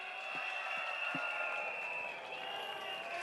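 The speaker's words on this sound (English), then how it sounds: "give yourself a big round of applause, everybody!" Faint, distant applause from a political rally crowd in Singapore, a steady wash of clapping with a few low thumps early on.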